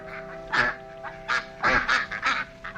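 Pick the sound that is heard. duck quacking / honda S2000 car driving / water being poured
duck quacking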